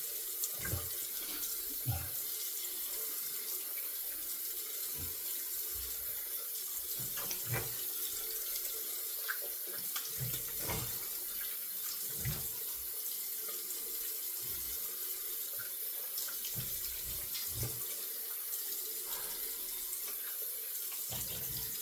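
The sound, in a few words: water tap running to rinse razor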